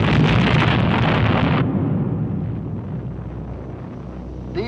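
A nuclear reactor destroyed in a planned experiment in the desert erupts in a loud, roaring blast that sustains a rumbling rush, then drops off sharply into a fading low rumble.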